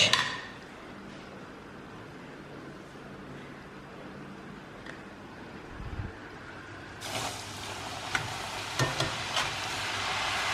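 Sweet diamond cuts of dough fry in a pan of oil, a soft steady bubbling that turns into a louder, brighter sizzle as a fresh batch goes in, with occasional ladle knocks close by.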